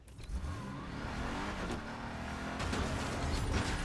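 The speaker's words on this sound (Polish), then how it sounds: "Samochód mobilny, biorę go." A mobile car in the Fortnite video game on PS5 starts up and runs as a steady, loud engine drone, rising slightly as it revs, with some mechanical clunks early on.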